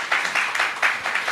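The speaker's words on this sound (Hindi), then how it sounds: "एक बार जोरदार तालियां बजाइए प्लीज।" A brief burst of audience clapping at a youth event honouring Bastar Olympics champions in Chhattisgarh, with rapid, slightly uneven claps lasting just over a second.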